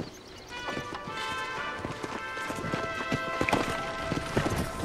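A horse's hooves clip-clopping in the Red Dead Redemption video game, a quick irregular run of hoofbeats building louder toward the end, with soft game ambience and a musical tone underneath.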